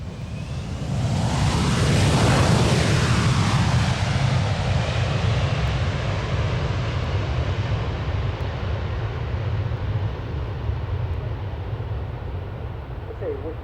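A jet aircraft roars past at the RAF Waddington airshow, a loud, sustained rush that swells early, then slowly recedes into a broad lingering rumble.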